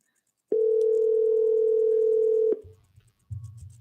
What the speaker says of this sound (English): We calling Kara.